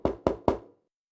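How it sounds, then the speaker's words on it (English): Three firm knocks on a door in quick, even succession, close and fairly loud, then silence. "she heard a knock at the door."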